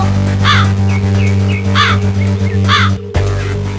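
Cartoon crow cawing in a kids' animation about a monkey and a crow: three loud, harsh caws spaced about a second apart, with smaller calls between and a steady music-like drone underneath.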